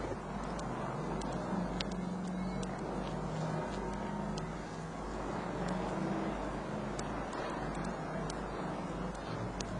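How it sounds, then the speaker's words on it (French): A small blue car moves through busy street traffic, heard as a steady, continuous roar of engines and tires with no clear individual pass-bys. "Voilà notre Suzy jetée au milieu du trafic."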